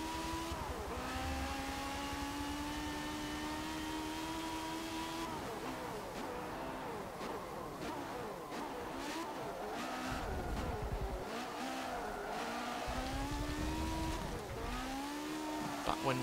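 Open-wheel race cars in Forza Motorsport 7 roar and rev in a pack, engines rising and falling through gear changes with overlapping whines from several cars, steady and continuous.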